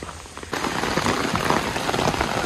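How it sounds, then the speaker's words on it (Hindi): Heavy rain pours at the Matheran hill station, rising suddenly after a quieter start into a loud, dense downpour close by, with no voices. "अब मैंने भी रेन कोट डाल लिया क्योंकि यहाँ पे इतनी बारिश हो रही है"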